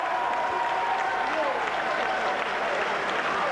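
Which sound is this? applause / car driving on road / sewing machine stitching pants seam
applause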